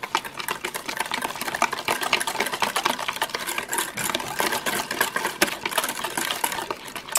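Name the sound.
mixing chaffle batter with melted cream cheese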